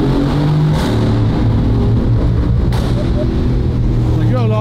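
A tuned Ferrari driven in a tunnel in Monaco, its engine droning loud and close with rising revs and sharp exhaust pops, while people talk over it.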